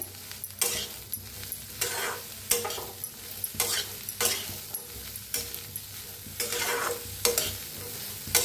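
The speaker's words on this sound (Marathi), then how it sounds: "आता मक्का छान असे भाजून घेऊया। हलवतच असं भाजायची मक्का, नाहीतर करपते लगेच खाली।" Sweet corn kernels roasting in a hot pan under constant stirring, bursts of sizzle and scraping sweeps repeating about every second, close by with no voices.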